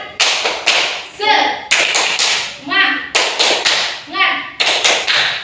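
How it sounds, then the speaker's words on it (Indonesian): A classroom of children in Indonesia performs the tepuk semangat clapping chant, with loud, rhythmic bursts of hand claps alternating with shouted chant syllables, close and energetic. "Yuk tepuk semangat."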